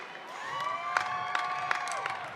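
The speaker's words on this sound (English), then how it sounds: "it seems like applause and wolf fingers are really appropriate" A commencement crowd in Carter-Finley Stadium, NC State, cheers and applauds across a large open field. A broad wash of distant cheering is crossed by a sustained tone and a few sharp peaks of louder shouts.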